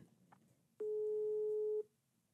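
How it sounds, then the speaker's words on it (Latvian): Telephone ringing tone heard while a call is placed, one steady electronic beep of about a second, clear and close against a quiet background, with no talking. "Tad mēs piezinām Andai Pavlovskiem"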